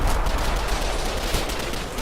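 Rifle gunfire from German infantry in the Combat Mission: Final Blitzkrieg war game, a dense continuous crackle of shots that fills the whole stretch, loud and close with no gaps.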